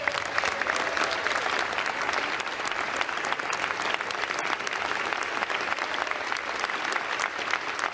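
Members of Congress in the Capitol chamber applaud together, a sustained, even roar of many hands clapping that holds steady for several seconds with a faint crowd murmur beneath.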